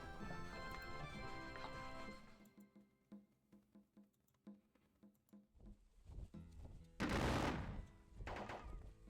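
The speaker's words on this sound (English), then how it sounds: "Throwing that regiment of Davis forward as well to shoot at the 8th Ohio." Musket volleys in a Battle of Gettysburg war strategy game: after a stretch of background game sound, scattered faint pops give way to a louder crackling fusillade and a few further shots, fairly distant.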